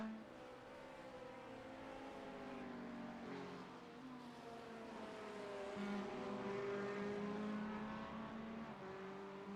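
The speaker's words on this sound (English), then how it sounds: "The BMW M4 GT3 Evo is a 3-liter twin-turbo inline 6." The 3-liter twin-turbo inline-six of a BMW M4 GT3 Evo race car drones at a distance during a GT3 championship race, with rising and falling engine tones as cars pass, fairly faint and steady.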